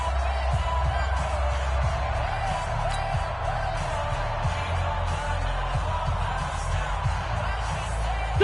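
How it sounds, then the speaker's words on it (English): A stadium crowd at a football game ahead of a big third down, a broad, steady roar of cheering spectators heard from a distance, sustained and even throughout, with a low rumble underneath. "The crowd getting into it as we come up on a big 3rd down"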